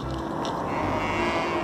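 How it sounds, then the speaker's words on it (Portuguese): Cattle lowing in a farm pasture, a single drawn-out moo carried over a steady low background, close and fairly loud. "As nossas vacas."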